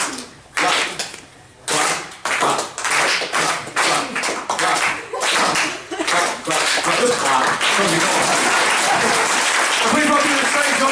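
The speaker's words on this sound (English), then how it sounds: "let's get another clap going." An audience at a comedy club claps in rhythmic bursts that build into steady, dense applause, with voices mixed in.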